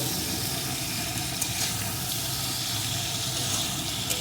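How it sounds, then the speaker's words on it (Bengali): Bean and potato curry being stirred and sautéed in a pan, a soft steady sizzle with faint scraping, low-level and continuous with no voices. "অল্প আছে এইভাবে নাড়িয়ে নাড়িয়ে কষিয়ে নেব"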